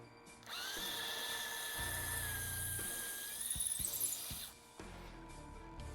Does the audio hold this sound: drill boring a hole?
yes